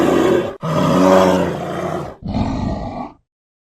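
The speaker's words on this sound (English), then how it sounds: "Grizzly bear." Grizzly bear roaring: three long, deep, throaty roars in quick succession, loud and close, separated by brief silent breaks, the last ending abruptly.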